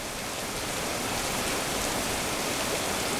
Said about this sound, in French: il pleut vraiment fort